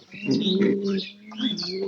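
Domestic pigeons coo in soft, repeated throaty phrases close by, with faint chirps mixed in.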